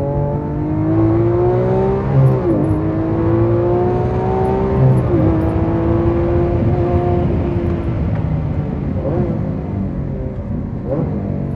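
Lamborghini Aventador Oakley Design LP760-2 V12 engine while driving, loud and close, revving up through gears in rising sweeps with shifts around every few seconds, no talk.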